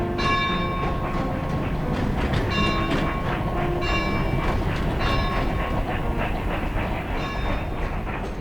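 A train rumbles loudly along the Remutaka Incline, with steady clattering wheels and a trackside bell struck repeatedly by the passing wheels, its bright rings recurring every second or so above the heavy rail noise.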